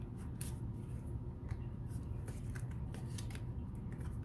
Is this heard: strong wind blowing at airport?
no